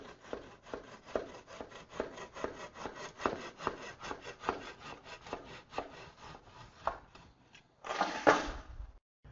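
A tool cutting through a dense rock wool insulation batt makes a rapid series of close, rhythmic rasping strokes, ending in a short louder tearing rip.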